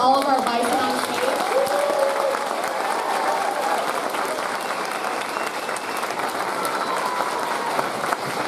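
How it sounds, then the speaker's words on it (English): Parents in a school auditorium give a big round of applause for kindergarten and first grade children after their concert, a dense sustained wash of clapping with crowd noise and a few voices over it at the start. "Let's have one more big round of applause for all of our bison on stage."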